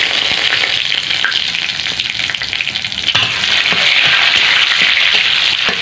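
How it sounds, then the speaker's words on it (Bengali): Dry red chilli, bay leaf, garam masala and cumin crackle and sizzle loudly in hot oil left from frying potatoes, a dense continuous close-up hiss with stirring scrapes throughout and no voices. "আলু ভাজা ওই তেলে আমি দিয়ে দেব শুকনো লঙ্কা, তেজপাতা আর গরম মশলা আর জিরে ফোড়ন"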